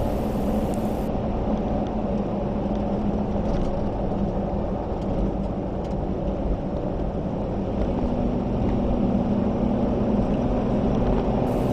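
A car drives down the road with a steady, continuous rumble of engine, tires and wind noise from inside the vehicle, constant in level with no talking.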